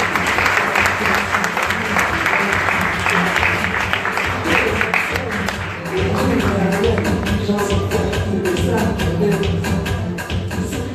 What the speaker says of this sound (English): Give a round of applause for Katiana Adrian.